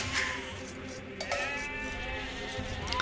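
Sheep in Age of Empires II bleat in a wavering, fairly loud call that carries over steady in-game background sound, close and clear throughout.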